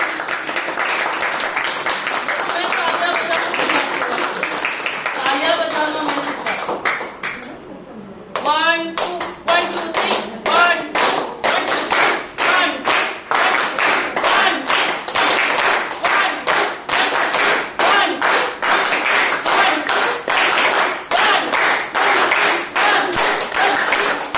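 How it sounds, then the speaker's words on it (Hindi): An audience claps loudly at a kirtan held at Neel Hospital, New Panvel: a brief spoken stretch, then a dense, steady, rhythmic stream of close hand claps that continues to the end. "तो जोरदार तालियां बजती है।"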